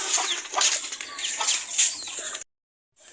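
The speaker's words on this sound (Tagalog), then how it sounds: "Mas marami na tayong manok." Chickens on a Filipino backyard farm cluck in busy, overlapping bursts, close and fairly loud, before a brief cut to silence.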